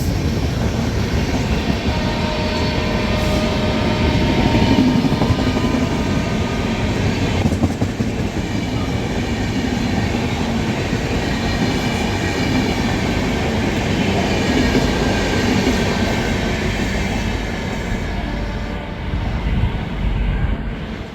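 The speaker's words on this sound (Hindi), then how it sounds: "ये निकली GT एक्सप्रेस" GT Express passenger train rolling past at close range, a loud continuous roar of wheels and carriages with rhythmic clatter sustained throughout, easing slightly near the end.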